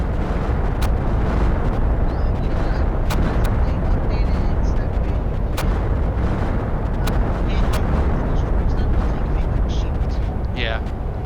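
A base in the survival game Planet Crafter is under bombardment: dense, continuous rumbling explosions with scattered sharp cracks, loud and unbroken throughout.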